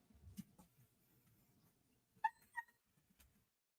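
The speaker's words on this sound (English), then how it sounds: "the poodles have like this big, angry type of bark, and then he squeals." A poodle lets out a few faint, high squeals and whimpers, brief and close, with quiet rustling around them.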